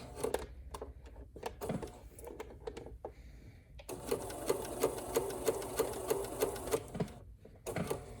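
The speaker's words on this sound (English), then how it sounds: "I'm just going to sew between these two clips the best I can with a camera in the way" A sewing machine stitches hoodie fabric in short rattling bursts with brief pauses, then one longer steady run of fast needle clatter near the microphone, with no talking.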